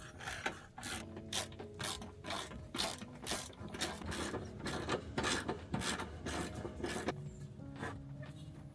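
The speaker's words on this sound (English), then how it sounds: "let's remove that access panel." A ratchet clicks in quick repeated bursts while undoing the fasteners of an access panel on a lifted Toyota Hiace van, with metallic rattles between strokes, close and fairly quiet.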